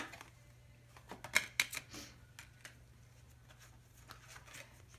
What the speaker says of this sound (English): I'll just lay the cards out.